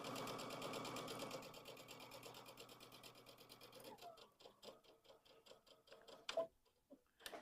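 Sewing machine stitching a seam on a pumpkin pillow, a fast even ticking run close to the microphone that slows and stops around the midpoint, followed by faint handling taps.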